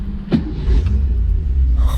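An MG MGB GT V8 starting up: a brief starter catch followed by the engine firing into a deep, steady low idle rumble, loud and close from inside the car.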